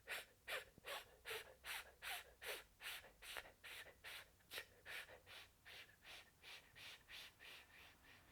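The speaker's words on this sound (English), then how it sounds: "we're going to breathe in" In a vocal warmup exercise, quick rhythmic breaths repeat in a steady train of about seventeen airy, close-up pulses, each a short burst of breath followed by a brief pause.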